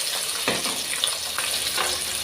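Onions sizzling in hot oil with popping mustard seeds while cooking vathal kulambu, a steady close frying hiss with a few sharp bursts of crackle.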